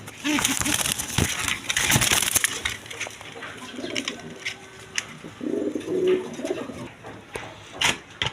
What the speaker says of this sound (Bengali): এইখানে একটা খোপালা রাজগোল্লা কবুতর আছে